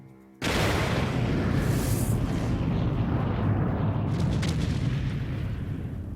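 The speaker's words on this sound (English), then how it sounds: "a terrible explosion tears the ship in half" A ship explosion in a harbour at night, the USS Maine in Havana Harbor, heard as a sudden massive boom that becomes a sustained, loud, rumbling roar with crackling debris.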